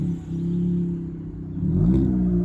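A car pulls away with a steady engine drone that swells as it accelerates, heard from inside or close by, with no talking.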